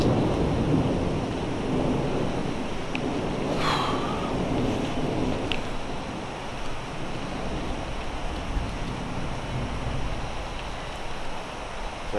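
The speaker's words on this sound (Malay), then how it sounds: "Saya terpaksa off kamera sebab hujan lebat lah." Heavy rain falling in a steady, dense roar near a forest reserve, with a low rumble of thunder rolling underneath and a brief crackle partway through.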